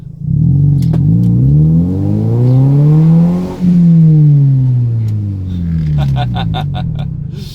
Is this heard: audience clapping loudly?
no